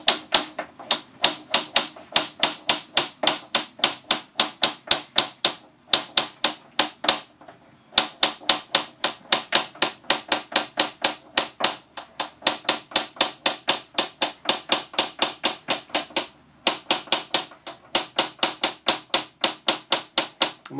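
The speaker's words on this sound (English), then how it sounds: "the object is to use the hammer to tease that crack all the way along underneath the score that you've made" A small hammer taps rapidly underneath a scored strip of thin glass to run the crack, producing a steady stream of sharp, close clicks in quick rhythmic bursts with brief pauses between runs.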